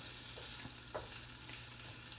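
Already-cooked chicken stir-fried in a pan for a teriyaki yakisoba, giving a faint, steady sizzle with occasional soft scrapes and taps of the utensil.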